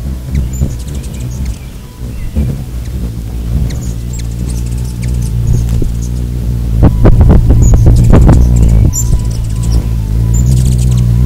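Hummingbirds close to the microphone, wings whirring in a steady hum with scattered high chittering calls and patter, building slightly louder toward the end.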